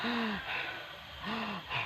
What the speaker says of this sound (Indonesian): Napas rasanya terengah-engah.